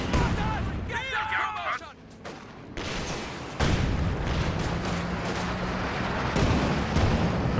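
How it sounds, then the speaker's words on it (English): Heavy mortar and artillery blasts rumble through a strategy game battle, with a dense, continuous barrage of booms and crackling, while a commentator talks over it. "He's going to have to deal with heavy mortar fire though. Oh, that's just the regular mortar."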